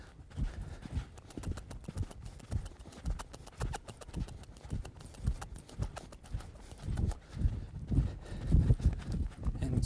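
A horse walking on a lead with a stock whip hanging down, hooves clip-clopping in a steady, close rhythm throughout, with a voice talking over the hoofbeats.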